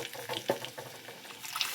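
Water is poured faintly into a pot of cooked lentils in a home kitchen, with soft splashing and trickling at close range and no talk.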